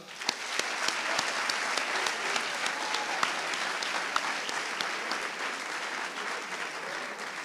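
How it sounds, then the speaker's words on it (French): A crowd at a university law faculty trophy ceremony applauds the event organizers, steady dense clapping with a few sharper nearby claps standing out, sustained at full strength throughout. "Je voudrais qu'on les applaudisse encore une fois, vraiment."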